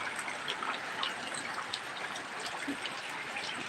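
Steady heavy rain falls all morning after a night-long downpour, with light wind and the effects of a cyclone on the trees; a dense even hiss of drops fills the scene without a break, and no one speaks.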